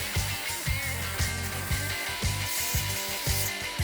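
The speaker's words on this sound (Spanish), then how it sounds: "Perforamos con broca de media." A drill press bores through a heavily reinforced steel PTR tube clamped to its base with a half-inch bit, giving a steady close mechanical whine with rhythmic periodic thumps and grinding bursts roughly twice per second.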